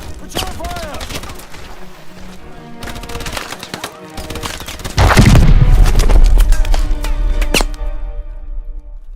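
Gunfire in the Call of Duty Advanced Warfare video game: bursts of shots mixed with booms and a heavy explosion midway, dense and loud with game effects.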